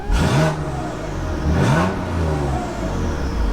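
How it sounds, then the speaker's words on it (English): A BMW M4 with a JB4 tune and exhaust flaps open revs hard twice, each burst rising and falling with a loud, raspy exhaust roar and turbo whine, idling between. "You can hear the turbo spool, you hear the exhaust, it's very loud."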